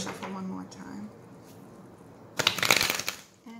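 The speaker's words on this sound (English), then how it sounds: "I'm going to shuffle one more time" A brief burst of cards being riffle-shuffled, crisp and close, following a stretch of quiet talk; a voice picks up again at the end.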